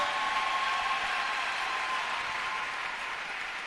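A church congregation applauds the Lord, a steady, dense wash of clapping that holds at an even level and tapers only slightly toward the end.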